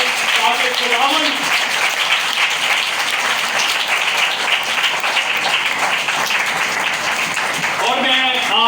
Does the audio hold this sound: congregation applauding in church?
yes